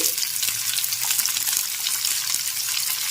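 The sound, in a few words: spice tempering (phoron) being stirred and fried in oil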